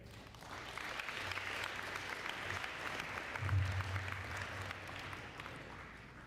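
Sustained applause from an audience at a spring sports awards ceremony welcoming a basketball coach to the stage, steady clapping throughout with a slight swell partway through.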